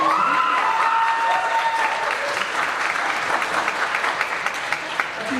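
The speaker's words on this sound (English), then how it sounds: "Another round of applause for them." A school audience applauds a flute quartet at a high school spring concert, a dense, steady wash of many hands clapping that holds through the whole stretch and thins slightly toward the end.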